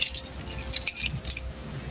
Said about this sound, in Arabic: المفتاح بتاعي، عايزه اقول لكم المفاتيح دي